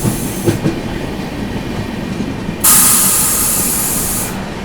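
Howrah Rajdhani Express running through Andal Junction without stopping: a rumble with a couple of rhythmic wheel clacks, then a sudden loud hissing rush as the train sweeps past close by, fading slightly over the last seconds.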